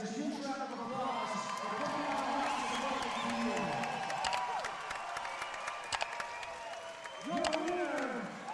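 An arena crowd applauds and cheers at a Saturday night fight show after a bout ends in a referee stoppage, a dense continuous roar of clapping and shouts with a voice calling out over it.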